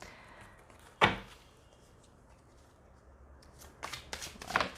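A deck of tarot cards is handled quietly up close, with a sharp riffle burst early on and a flurry of soft card flicks and shuffling near the end over low room hiss.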